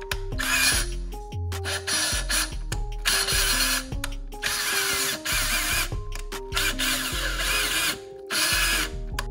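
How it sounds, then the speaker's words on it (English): A power drill whirs in repeated short bursts, spinning an engine valve against lapping compound in an LS cylinder head, stopping and starting with a grinding, rasping mechanical sound, close up and fairly loud. "Sliding that valve back in, snapping on the drill."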